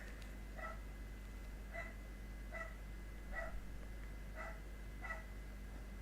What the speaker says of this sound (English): one of my dogs is barking downstairs